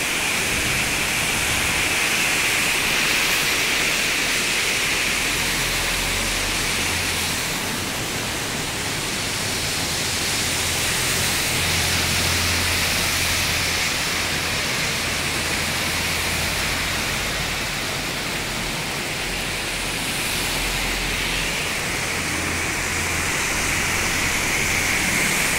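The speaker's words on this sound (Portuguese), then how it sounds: "Um aguaceiro gigante aqui." Heavy nighttime rain downpour in Blumenau, Santa Catarina, Brazil: a dense, constant roaring hiss of falling water with a low rumble beneath, loud and unbroken throughout, with no voices.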